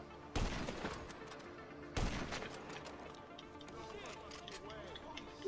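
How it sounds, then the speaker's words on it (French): Gunfire rings out in a heist video game: two sharp loud shots spaced apart, each followed by a rattling tail, over busy background game noise. "Allez, je commence à tirer."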